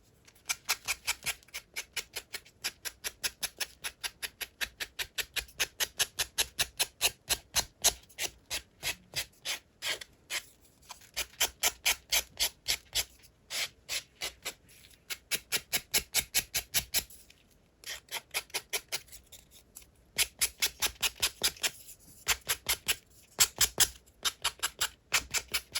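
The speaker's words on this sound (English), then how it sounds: "going to use this sanding block." Rhythmic scratchy rubbing of a sanding block on paper, repeated quick strokes in bursts with brief pauses, close up.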